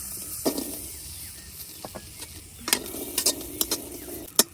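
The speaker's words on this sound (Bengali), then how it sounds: "এখন কাঁচা মরিচ গুলা বাজিয়ে নিলাম।" Green chilies dry-frying in an oil-free pan, stirred with a few quick scrapes and clinks that fall unevenly over a quiet background crackle, growing busier toward the end, with no voices.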